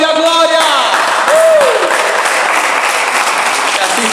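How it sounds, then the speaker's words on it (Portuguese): A church congregation applauding during a worship service, dense clapping that continues steadily while a voice speaks and sings over it at the start. "E aplauda o Rei da Glória"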